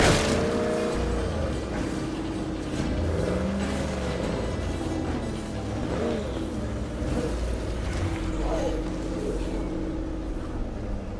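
A car drives in the State of Decay 2 video game, its engine droning steadily with wavering pitch as it speeds up and eases off, continuous and fairly loud with no talk.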